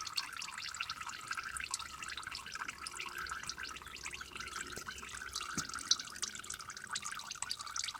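Used engine oil mixed with diesel draining from a Jeep Cherokee KJ petrol engine, a continuous soft trickle with fast, irregular close drips pattering throughout, fairly faint and without talk.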